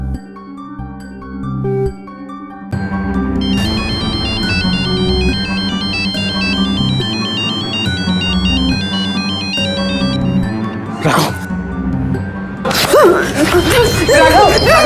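A melodic ringtone plays on and on without being answered, loud and close, with short bursts of voices and rustling near the end.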